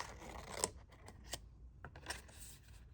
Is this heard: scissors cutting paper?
yes